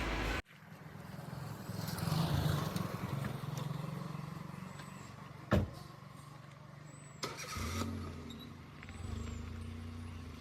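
A car engine starts and runs, a steady low rumble of a car being driven nearby, with a couple of sharp thumps like a door closing along the way; no one speaks.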